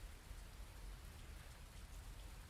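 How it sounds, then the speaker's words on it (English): Steady, even rain hiss in the Fernbus Simulator bus game, a dense continuous patter without pauses, quiet overall and with no voices over it. "And it's bloody raining as well."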